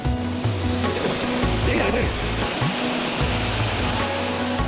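A scenic waterfall in a forested area of India gives a loud, steady broadband rush of falling water, with a voice talking over it.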